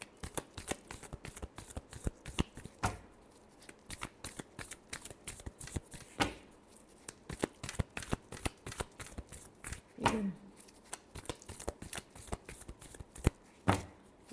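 Tarot cards being shuffled by hand, a rapid run of crisp riffling flutters and slaps in irregular bursts throughout, close and fairly quiet, with no talking.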